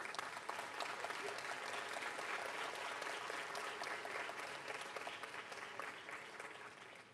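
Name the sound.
graduation ceremony audience applause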